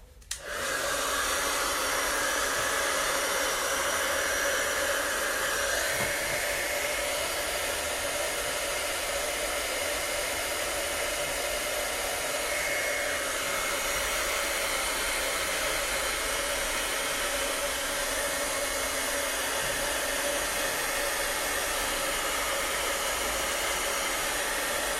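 A hair dryer runs steadily and loudly for the whole stretch, drying a chalk paste craft piece, a constant close airy roar with only slight shifts in tone.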